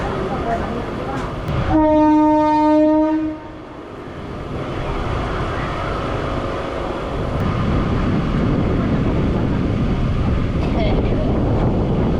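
A suburban electric train on the Tiruttani–Chennai line gives a loud horn blast for about a second and a half, then keeps rolling with a steady, rushing track rumble heard from on board.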